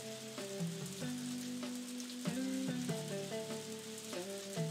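Soft, steady rainfall in the farming game Harvest Moon: A Wonderful Life Special Edition, a faint continuous patter with light tonal game sounds drifting over it.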